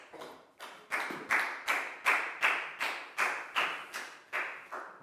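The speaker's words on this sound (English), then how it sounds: "Big round of applause for Pacmung" A classroom of Year 4 pupils applauds a classmate with a steady run of about a dozen rhythmic clap bursts, close and fairly loud, with no voices over them.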